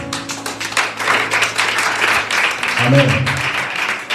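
A church congregation claps and cheers in a sustained burst of applause, with a voice briefly speaking over the clatter of hands and music underneath.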